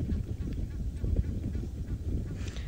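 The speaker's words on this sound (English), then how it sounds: "Hello, lovely water birds." Water birds on a safari live stream give repeated goose-like honks and calls, a busy chorus at moderate distance over a low outdoor rumble.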